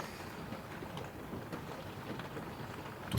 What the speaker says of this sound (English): Just listening to the rain